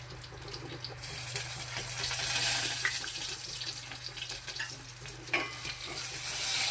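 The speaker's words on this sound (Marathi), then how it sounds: "तर आता लसूण घातली फोडणीला, राई जिरं घातलं." Garlic, mustard seeds and cumin sizzle in hot tempering oil for a buttermilk kadhi, a steady fizzing crackle that swells and fades with a few stirring clinks, heard alone at moderate level.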